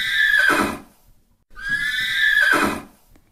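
A horse neighs twice, each a loud, close whinny that rises and falls for about a second, separated by a short silence, with no other sounds.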